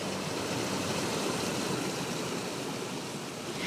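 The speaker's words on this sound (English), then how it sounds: "all you hear is the sound of the water pouring over the monument" Steady, broadband rush of water pouring over a long green memorial wall in a recessed space, a continuous soft wash with no voices.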